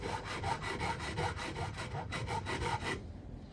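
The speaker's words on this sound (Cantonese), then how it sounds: "咁呢個 fret end 最終會用呢個68號嘅鑽石銼磨翻滑佢。" A No. 68 diamond file rasps across the fret end of a handmade wooden acoustic guitar in quick, even back-and-forth strokes, close and steady, then stops abruptly near the end.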